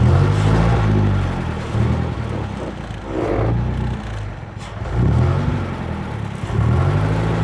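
A vintage Bentley touring car's engine rumbles low and steady, rising and falling as it revs and pulls away, loud and close with no talking.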